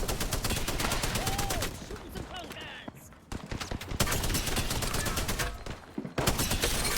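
Rapid gunfire crackles in a battle royale video game, with dense bursts of automatic shots. The loud, close firing runs nearly continuously, broken by a few short pauses.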